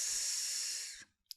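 Human voice imitating a snake's hiss, one sustained, loud, breathy hiss of about a second that cuts off sharply, followed by a brief soft breath.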